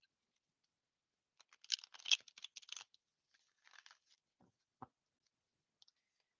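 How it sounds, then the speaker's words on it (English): Quiet, close crisp flicks and soft riffling of tarot cards being shuffled in short bursts, with a brief tap near the end amid near silence. "I'm going to shuffle one more time."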